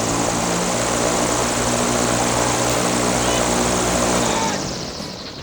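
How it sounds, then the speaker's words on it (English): A very loud stage fan driven by an airplane propeller, used to fake a storm on a dance film set, roars as a steady broadband rush with a low droning hum, then fades slightly at the end. "This fan was super loud. It is literally an airplane propeller."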